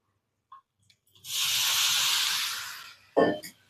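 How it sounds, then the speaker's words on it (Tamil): Water sprinkled onto a hot dosa tawa sizzles in one loud, sustained hiss lasting over a second and fading out, followed by a brief sharp clatter; a small tap comes before it. "கொஞ்சமாக தண்ணி துவைச்சிக்கலாம்"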